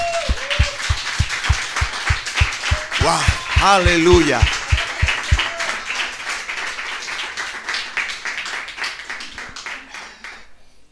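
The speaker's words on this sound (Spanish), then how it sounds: "¿Por qué no le da un aplauso al Señor?" A church congregation applauding, opening with sharp rhythmic claps or beats in a steady pulse, a voice shouting excitedly over them, then settling into broad sustained clapping that gradually fades.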